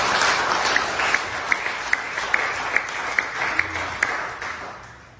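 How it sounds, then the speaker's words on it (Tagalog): A church congregation applauding during a Filipino worship service, a broad sustained round of clapping with sharp rhythmic claps standing out, fading toward the end. "isang palakpak pa sa ating Diyos."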